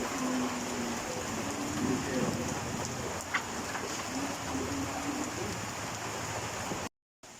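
Steady rain falling on surfaces, a continuous dense hiss, with faint voices and activity in the background.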